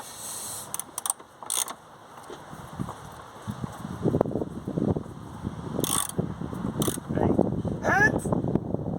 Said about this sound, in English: So I'm getting these torqued up, right?